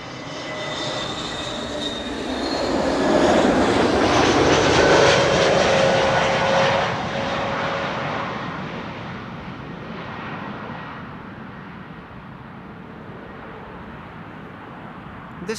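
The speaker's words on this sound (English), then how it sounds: "This is Transavia flight 5820, arriving from Bari" A Transavia airliner arriving from Bari lands at Amsterdam Schiphol, its engine roar and whine swelling loud as it passes close, then slowly fading into a lower, fainter rumble, with no talk.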